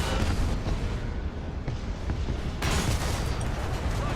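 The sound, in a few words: tank cannon firing in War Thunder video game, Maus tank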